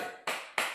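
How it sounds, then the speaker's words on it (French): A few sharp hand claps during a French football debrief live stream, three quick taps spaced about a third of a second apart, faint and close, with no voices over them. "On applaudit Maeva dans le live."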